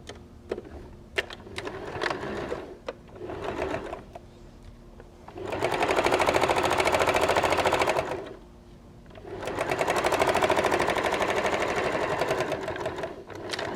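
A sewing machine stitches layers of fabric together for a microwave potato bag, with short stop-start bursts first, then two long, even runs of rapid mechanical whirring and needle chatter separated by a brief pause, close and loud.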